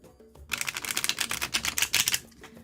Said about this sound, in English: Oh, great shuffle.